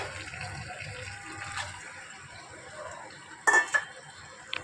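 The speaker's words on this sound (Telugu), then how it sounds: "సో ఇప్పుడు మనం ఈ రొయ్యల్ని ఇందులో ఈ మసాలాలకి యాడ్ చేసేసుకుందాం" Half a kilo of cleaned prawns goes into masala in a pan for a garlic prawn curry, bringing a low sizzle and soft stirring, then a sharp burst of wet clatter and splashing near the end.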